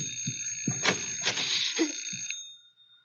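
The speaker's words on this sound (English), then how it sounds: "The bell, it's ringing." A bell rings with sustained metallic tones for about two seconds, then fades out, with low knocks and murmurs underneath.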